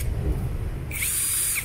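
A WORKPRO 16.8V cordless hammer drill with a 10 mm chuck spins up close for under a second, giving a sharp high whine over low background rumble.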